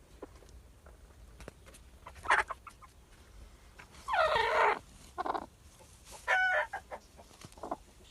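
Hens clucking and squawking nearby in short, separate bursts, with a few louder calls rising above quieter scratching and rustling in the background.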